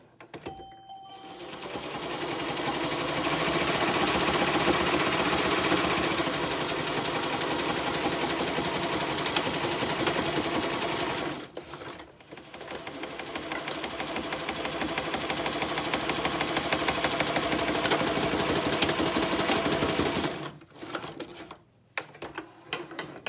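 A sewing machine stitches a fabric mask in one long, steady run of rapid needle clatter close by, pausing briefly midway and again near the end.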